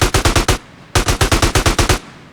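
Automatic gunfire in GTA San Andreas Definitive Edition, two loud rapid bursts of evenly spaced shots separated by a brief pause, close and without talk.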